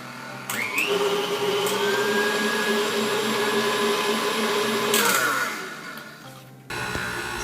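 An electric hand mixer whirs steadily through cake batter, starting abruptly, holding a loud even motor whine with slight pitch shifts, then dropping to a lower hum before stopping and restarting at the end.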